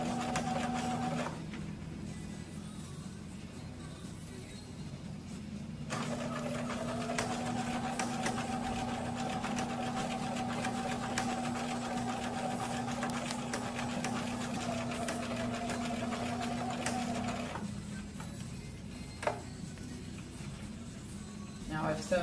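Sewing machine running a regular stitch along a quarter-inch French seam on fabric, a steady close whirring hum lasting over ten seconds with brief pauses at the start and end, and a voice talking over parts of it.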